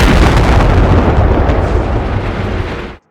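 A loud explosion effect from an Unreal Engine 5 game demo, a dense, sustained roaring blast that holds for about three seconds before cutting off abruptly into silence.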